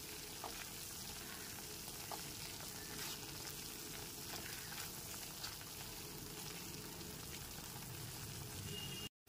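Spice paste for egg curry sautéing in a pan over a low-to-medium gas flame, a soft, continuous crackling sizzle with small pops, heard alone without voices throughout.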